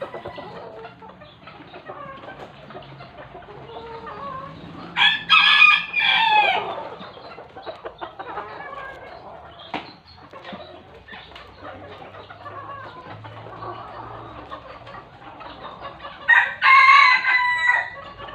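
Chickens cluck steadily nearby, and a rooster crows loudly twice, once near the middle and again near the end.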